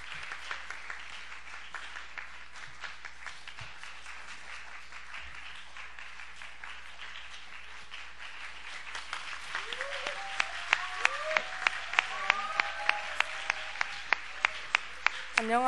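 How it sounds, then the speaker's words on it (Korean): An audience at a church youth worship service claps steadily to welcome a first-year student forward, the applause building louder toward the end with a few sharp individual claps. "먼저 1학년의 이온유 친구 앞으로 나와주실 때 큰 박수로 맞이해주세요."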